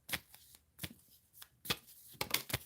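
Chakra cards being shuffled by hand, a series of quick, close, crisp riffling bursts with short pauses between.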